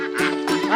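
A duck quacks a few times in quick succession, close and fairly clear against a quiet background.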